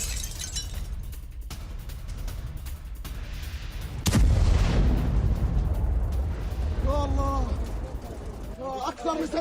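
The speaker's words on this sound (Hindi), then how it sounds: "أكثر من صاروخين 4 صواريخ." Missile strikes explode in Gaza during an Israeli air attack, a heavy boom bursting out midway and rumbling on, with agitated voices shouting over it before and after.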